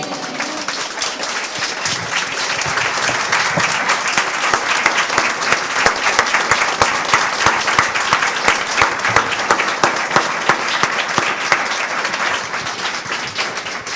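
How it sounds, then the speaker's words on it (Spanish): Congregation applause at a Christian church service, a dense, steady wash of many hands clapping that holds loud and even throughout without speech. "¿No merece un aplauso el Señor?"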